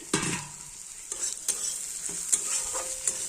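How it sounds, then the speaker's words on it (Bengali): Okra frying in a pan until reddish, a steady sizzle broken by several sharp scraping stirs of a utensil against the pan, close and moderately quiet. "লাল লাল করে ভেন্ডিগুলো ভাজা হয়ে গেছে, এবার নামিয়ে নিচ্ছি।"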